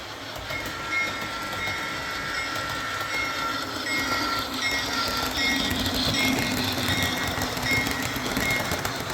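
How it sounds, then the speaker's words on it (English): A model Amtrak train rolls past on a model railroad layout, producing a continuous rattling clatter of wheels on track that swells slightly as it nears, with high whining tones over it. "Let's close this out with the Amtrak going by."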